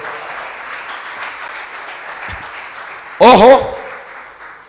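A church congregation claps during a Spanish-language sermon, a steady, fairly loud wash of applause, with someone briefly shouting a word over it near the end.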